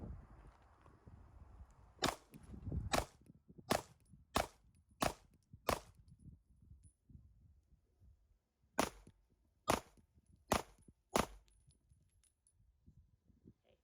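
A Glock 43X pistol fitted with a tungsten guide rod fires 10 shots at a target from 7 yards, sharp reports heard from a distance in two evenly spaced strings of six and four.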